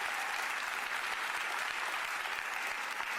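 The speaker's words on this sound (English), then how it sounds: "oh yes, please applaud that" An audience applauds at a Los Angeles celebration event hosted by the mayor, a dense, steady wash of many hands clapping, loud and continuous throughout with no break.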